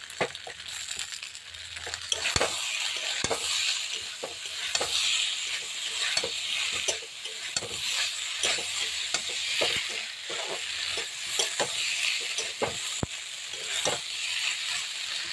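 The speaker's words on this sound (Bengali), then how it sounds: "অনেকক্ষণ ধরে মশলাটাকে জাল দিতে হবে" Spice masala with tomatoes frying in a pan while being stirred: a steady loud sizzle runs throughout, with frequent sharp clinks and scrapes of the spoon against the pan at an uneven rhythm.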